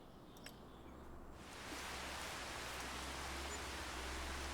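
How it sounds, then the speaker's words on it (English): Steady rain in the Farming Simulator 25 game, starting as a sudden broad hiss partway through and continuing loud and even to the end, with no talking over it. "Sounds like rain, not hail,"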